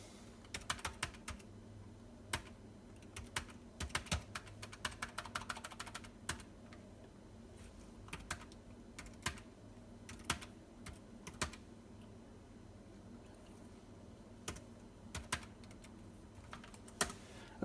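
Data being typed into a computer spreadsheet on a keyboard, with irregular bursts of quick, close key clicks and short pauses between runs.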